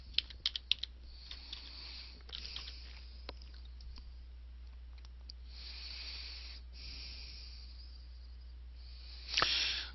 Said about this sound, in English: type in your username password that you use to enter email